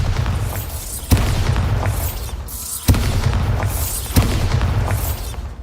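A Bombarda blasting spell in the Hogwarts Legacy video game sets off three loud booming explosions, each a sharp burst with a rumbling tail, spaced about one and a half seconds apart over a constant low game rumble.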